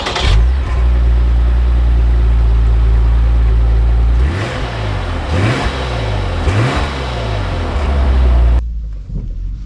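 A 2025 Lexus IS 350 F Sport engine revs loudly and steadily, then drops into a run of rising and falling pulls as it climbs through gears, close and with no talk.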